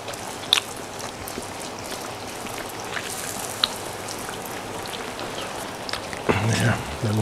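Cakwe dough frying in hot oil gives a steady, dense crackle and sizzle with scattered pops, turning briefly louder and busier near the end.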